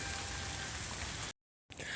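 Steady rain falls outdoors, an even hiss of drops that is cut off by a short gap of silence before resuming.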